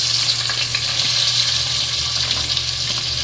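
Whole spices and onions frying in hot oil for biryani, a loud, close, continuous sizzle with a steady crackling hiss and faint stirring throughout.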